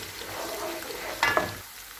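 Ginger garlic paste frying in a pan with a steady close sizzle, a brief scrape of stirring breaking through partway before the hiss settles back down.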